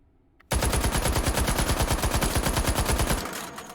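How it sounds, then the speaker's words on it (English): Sustained full-auto burst from an H&K UMP 45 firing .45 ACP in the H3VR video game, a loud, rapid, even stream of shots lasting about two and a half seconds and then tailing off, with no voices. "We're going to do 25 rounds of 45 ACP full auto."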